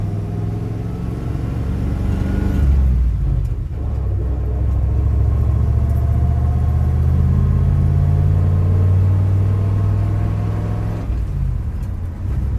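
A 1973 Dodge D100 pickup truck engine pulls away in second gear, a loud, close, low rumble that swells steadily as the truck accelerates and then settles.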